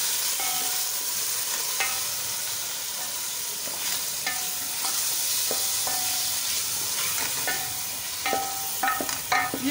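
Chicken and tomatoes frying in a pan for vegetable chicken macaroni, a steady close sizzle broken by repeated clinks and scrapes of a spoon stirring against the pan.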